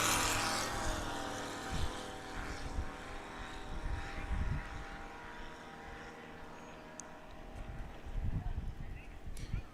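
A STOL aircraft at a Swamp STOL competition in Jennings, Louisiana, its propeller engine droning steadily at a middle distance with wind noise and gusty rumble, while an announcer talks over it.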